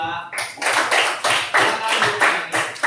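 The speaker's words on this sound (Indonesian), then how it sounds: "Mari kita beri tepuk tangan untuk kelompok 2." A classroom group claps hands together in a steady patterned rhythm, bursts of sharp claps repeating roughly every half second, close and moderately loud, with voices audible in the room.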